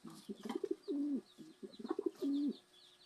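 A racing pigeon coos close by in two repeated phrases, each a few short soft notes leading into a longer rolling coo, with quiet gaps between.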